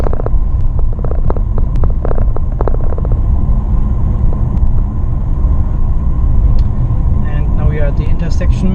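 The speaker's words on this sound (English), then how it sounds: "I'm taking my foot off the accelerator, and you can see we are coasting" Mitsubishi Outlander PHEV coasting downhill on a road, a steady low rumble of tyres and wind noise inside the cabin, with faint ticking and clicks over it and no engine revving.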